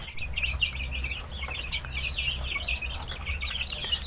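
Backyard chickens cluck and chirp in a steady, overlapping chorus at moderate distance, with a low background rumble and no talking.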